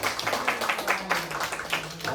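A church congregation clapping together in rhythm, a steady run of regular claps at a lively even tempo, fairly close and moderately loud, with faint voices underneath.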